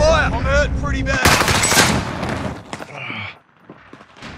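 Loud, dense bursts of gunfire from Call of Duty: Modern Warfare, with rapid automatic rattling and sharp reports through the first half, a heavy crack near the middle, then thinner scattered shots and echoes as it fades.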